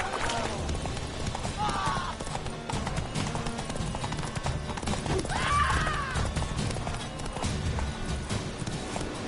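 Galloping horse hooves in a PS4 video game, a fast rhythmic clip-clop running steadily at moderate volume, with a couple of brief whinny-like tones over it and a voice speaking at times.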